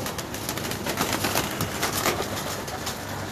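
A loft full of Lahore breeder pigeons coos continuously, a dense, fairly close chorus of overlapping low calls with no talking.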